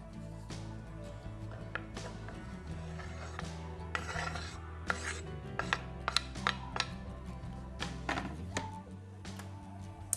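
Knife thunks and taps on a board as streaky bacon is cut into chunky pieces inside a caravan, irregular close knocks and scrapes with quiet pauses between cuts.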